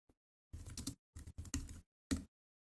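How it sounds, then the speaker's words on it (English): Quiet computer-keyboard typing: a few short bursts of rapid key clicks separated by brief pauses. "as I was typing console.writeLine"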